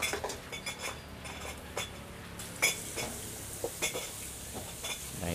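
Eggs frying in a pan at a busy roadside rice-and-egg food stall, a steady sizzle under scattered clinks and scrapes of a utensil against the pan, close by with no talk.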